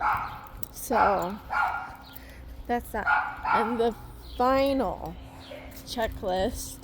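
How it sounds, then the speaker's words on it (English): A dog barks and yips repeatedly in short bursts, fairly close, while a person talks steadily over it. "Sorry about the dog barking."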